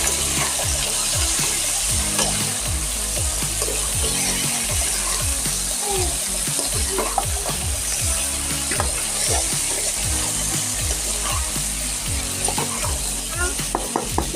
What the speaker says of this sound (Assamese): এতিয়া মই তাত মাংসটো ঢালি দিম। ভালদৰে মিক্স কৰি ল'ম।